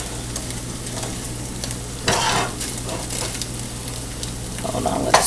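An egg frying in a pan for a breakfast bowl, a constant close sizzle with a low steady hum, a spatula scrape and louder crackle when it is flipped, and a clink near the end.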